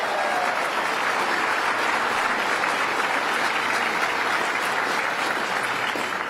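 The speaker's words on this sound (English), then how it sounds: "Let's give him a round of applause." A large audience in Yonkers gives sustained, loud applause for the new mayor Mike Spano, a dense unbroken roar of clapping lasting several seconds with no voices on top.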